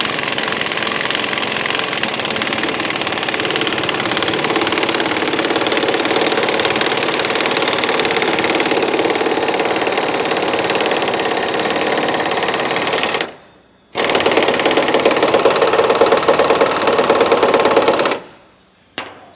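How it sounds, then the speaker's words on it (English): An impact wrench hammers a traction bar bolt into place on a 2020-2026 Chevrolet Silverado or GMC Sierra L5P 2500/3500 pickup, a loud, close, rapid rattling burst running continuously for about thirteen seconds and then resuming in two shorter bursts after brief pauses. "I'm going to run this in with an impact."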